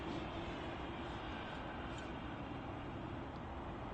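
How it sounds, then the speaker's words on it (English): Boeing 787 Dreamliner with GE NX engines at Manchester Airport, a steady, broad jet engine roar, fairly faint and distant, constant throughout with no talking. "That chevroned engine design to reduce jet blast noise, and it really works."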